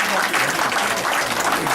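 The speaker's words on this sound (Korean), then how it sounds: "큰 박수 부탁드립니다" Applause at a 30th-anniversary class homecoming gathering, a loud, dense burst of many hands clapping continuously throughout, close and sustained with no pauses.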